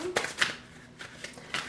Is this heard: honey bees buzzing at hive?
no